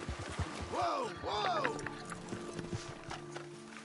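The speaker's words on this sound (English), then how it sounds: "so I'm gonna get on my horse" Horse hooves clip-clopping in the video game Red Dead Redemption 2, with a rhythmic run of hoofbeats alongside a rising whinny-like call, mixed with a voice talking over it.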